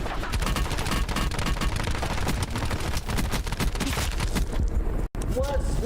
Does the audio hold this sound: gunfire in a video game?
yes